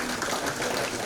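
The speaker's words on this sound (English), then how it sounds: "applause for Ravinjay." Festival audience applauding a speaker at a writers' festival in Bali, a steady dense wash of clapping lasting about a second with no voices.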